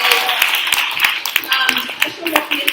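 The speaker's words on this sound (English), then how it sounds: "Round of applause to all of our participants again" Audience applauding hackathon participants at the close of a summer student hackathon demo event, a steady wash of clapping with sharp individual claps standing out, fairly close and loud, with some voices mixed in.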